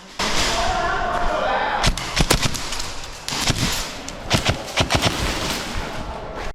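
An airsoft M4 rifle firing BBs on a pistol-range airsoft field, with a hissing rush and then a burst of sharp, close pops in irregular quick clusters.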